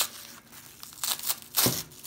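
Plastic wrapping being torn and crinkled off a new Coach Willis 18 top-handle handbag during an unboxing, a few short, close ripping bursts with a louder tear near the end and no talking.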